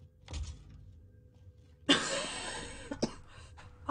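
A person coughing: a short burst near the start, a pause of near silence, then a louder harsh cough with rough breathy noise and a couple of sharp follow-up hacks, close to the microphone.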